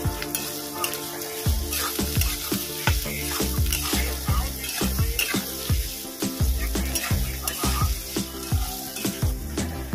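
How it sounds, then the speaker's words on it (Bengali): Chopped onions and black cumin fry in a pan for a shrimp poppy-seed dish, a steady close sizzle broken by repeated scraping stirs of a spatula, with no talk. "আমি এখানে পেঁয়াজ কুচি করে রেখেছি, কুচানো পেঁয়াজ দিয়ে দেব। হালকা করে ভেজে নেব।"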